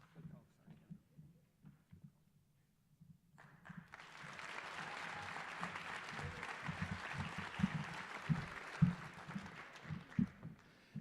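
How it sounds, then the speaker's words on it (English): Audience at a school awards ceremony breaks into applause for an award recipient, a sustained, moderately distant patter of clapping that swells and holds, with a voice and low thumps heard before and under it. "Please give a round of applause for Caden Spickler."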